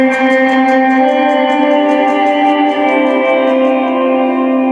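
A sustained, shimmering wash of electric guitar reverb set fully wet with no original signal, no dry attack, dense ringing tones blending into a continuous loud swell.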